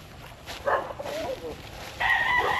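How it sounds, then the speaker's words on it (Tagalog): Gamecock roosters crow and cluck nearby in short bursts, with a brief second call at the end over a low background hum. "Pagkat napakarami pong mga panabong na manok dito."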